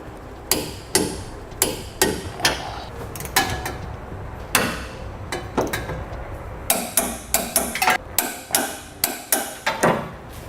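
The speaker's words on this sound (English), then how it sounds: "Now we'll torque all of our hardware to the amount specified in the instructions." A torque wrench tightens trailer hitch bolts on a 2015 Ram 1500 during a Curt receiver install. Sharp metallic clicks come first at irregular intervals, then as a quicker, regular run of clicks near the end, close and loud.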